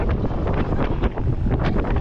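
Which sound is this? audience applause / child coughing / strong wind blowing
strong wind blowing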